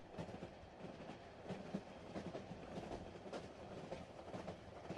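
A night train rolls along the rails with a steady low rumble and faint rhythmic clatter of wheels, continuous and moderately loud, with no one speaking.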